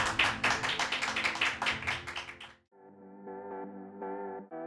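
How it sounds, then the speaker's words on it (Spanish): An audience at a book presentation for Antonio Gargallo's Trilogía de Nazaret breaks into brisk, close applause for a couple of seconds, which cuts off abruptly and gives way to sustained tonal music. "Aplauso,"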